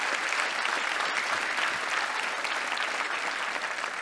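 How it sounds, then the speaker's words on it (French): Steady applause from an audience at a secondary school awards gala, a dense, even patter of clapping hands continuing at moderate volume without a break. "On peut applaudir ça certainement."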